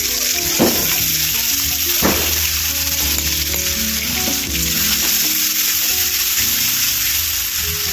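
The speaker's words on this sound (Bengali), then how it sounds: "আমি এবার তেলটা গরম হয়ে গেছে, আমি ব্যাটারটা দিয়ে দেবো।" Paneer batter sizzles loudly as it drops into hot oil, a dense steady frying hiss with a few sharp spatters and stirring knocks, close and continuous with no voices.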